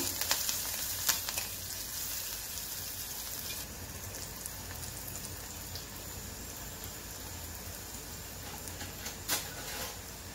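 Paneer with garlic paste and pepper powder sautéing in a pan, a soft continuous sizzle with a few sharp spatula clicks against the pan, fairly quiet and steady.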